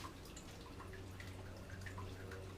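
Water drains from a detached boat muffler hose in a quiet stream of soft drips and trickles against a low steady hum, faint and close.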